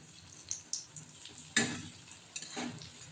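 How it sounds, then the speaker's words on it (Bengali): Round tal bora, palm fruit fritters, frying in hot oil, giving a soft sizzle with a few sharper crackles and pops, one stronger burst near the middle, close by and without speech. "দেখুন কত সুন্দর গোল গোল বড়া আমার ভাজা হচ্ছে"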